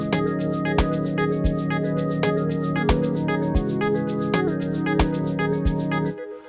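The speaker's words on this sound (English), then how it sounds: "I added some reverb and some delay onto it" Amapiano-style piano chords drenched in reverb and delay, layered over a steady beat with deep kick thumps, sustained and loud, with the mix cutting off abruptly near the end.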